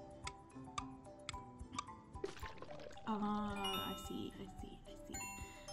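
Liquid pours in a Barbie.com cooking video game, a steady synthetic gush of a few seconds mixed with chiming, ticking game effects and jingles.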